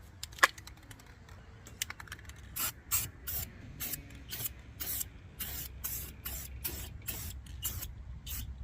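Spray paint is applied to a 406 small block Chevy engine in a rapid series of short, hissing bursts, each a second or less, following a few faint clicks and taps at the start.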